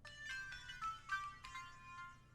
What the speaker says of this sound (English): Then we are going to use the Ghostly Pluck.